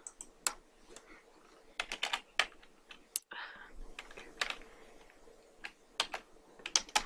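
Laptop keyboard keys tapped in a quick, uneven run of sharp clicks, fairly close, with a few louder strikes and short pauses between bursts.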